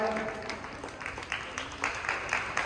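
An audience claps to welcome guests at a public event in India, uneven bursts of applause rising and falling under and between a voice addressing the crowd.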